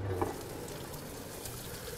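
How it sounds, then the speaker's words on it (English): Onions, celery and carrots sizzle steadily in hot oil, a continuous crackling hiss at close range with no voices. "I've got the onions, celery, and carrots starting first. You hear that sizzle?"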